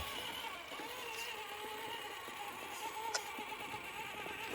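RC rock crawler on Jetko Conqueror 1.9-inch tyres climbing an obstacle, its electric motor giving a faint, steady whine with slight wheel spin throughout, quiet and without talk.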